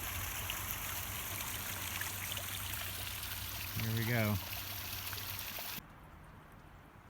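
Small waterfall spilling over a tree on a trail in Acadia National Park, heard as a steady broadband rush of falling water throughout, with a brief voice speaking over it midway.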